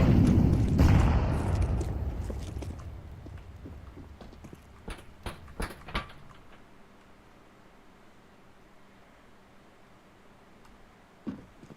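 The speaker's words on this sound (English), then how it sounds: "Flashbang. Throwing a grenade." Flashbang grenade thrown and detonating in a video game: a loud broadband burst opens, trails into a ringing decay, followed by a few sharp cracks and a faint hit near the end, with no talking.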